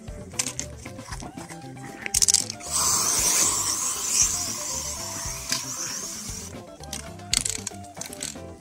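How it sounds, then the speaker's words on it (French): A marking-paint aerosol can sprays outdoors while a small snail enclosure is laid out, giving a steady hissing spray of several seconds between quieter clicks and handling noises. "Bombe de marquage."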